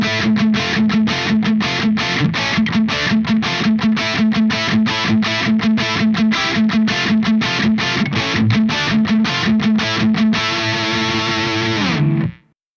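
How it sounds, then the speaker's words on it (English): Heavily distorted electric guitar through an Engl Powerball II amplifier's crunch channel with the gain fully up, playing fast chugging palm-muted chords in a tight rhythm, then a sustained ringing chord that cuts off abruptly at the end. "I'm just going to turn the gain all the way up and see what we have"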